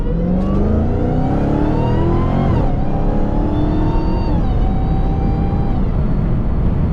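A Dodge Hellcat engine whines loudly while accelerating in traffic, a rising supercharger whine climbing in pitch, dropping briefly on shifts, then climbing again over steady road and engine roar for about seven seconds.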